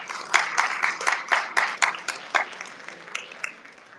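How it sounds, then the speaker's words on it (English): Scattered clapping from a modest audience at a diabetes awareness fundraising event in Sydney, individual claps distinct and fairly close, fading over a few seconds. "Let me give a big round of applause to the entire team and friends of TDC."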